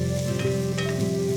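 Onions sizzle steadily in a hot pan while being stirred, a close, continuous frying crackle with faint scraping movements running through it.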